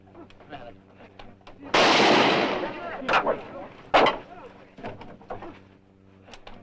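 Gunshots in a western TV episode: a loud burst of gunfire crashes out and rings off, followed by two or three sharper single shots among fainter background sounds and a little talk.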